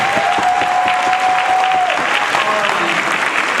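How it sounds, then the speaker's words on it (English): Sustained applause fills the room as the audience at a union forum claps continuously at a steady level, with faint voices under it. "give a round of applause to everyone for this wonderful forum"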